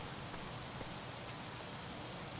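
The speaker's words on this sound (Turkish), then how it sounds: "Ee, yağmurlu lanet boktan bir güne geldik." Steady rain falls in Car Dealership Simulator, a constant, even hiss of drops with no voices.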